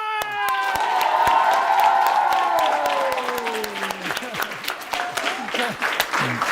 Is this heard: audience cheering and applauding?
yes